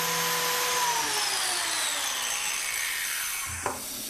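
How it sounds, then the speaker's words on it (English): A chop saw winds down after cutting a 45-degree miter in wood frame stock, its whine falling steadily in pitch, ending in a short thump and clack near the end. Fairly faint, no voices. "we cut a 45-degree miter on the ends of our frame stock with the chop saw"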